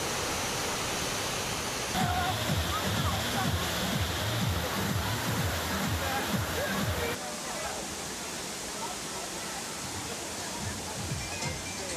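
Kaviyaruvi waterfall at Aliyar near Pollachi roars as a steady, dense rush of falling water, with a voice speaking over it for the first several seconds and the torrent continuing alone afterward.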